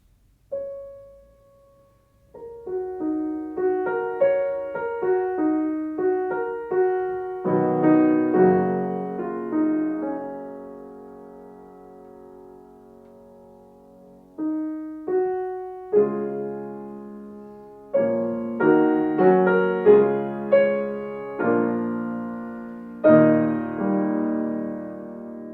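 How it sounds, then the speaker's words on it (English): Solo piano performing Debussy's prelude La fille aux cheveux de lin, soft and lyrical, with gentle melodic phrases and rolled chords separated by short pauses, sounding alone and fairly quiet. "Today we're talking about how to teach Debussy's Prelude, which is subtitled The Girl with the Flaxen Hair."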